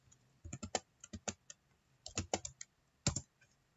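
A short run of computer keyboard typing gives crisp, close key clicks in quick bursts with brief pauses, fairly quiet against a silent background.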